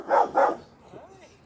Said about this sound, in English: What are you barking at, buddy?